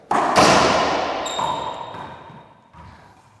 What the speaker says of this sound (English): Down the line shot.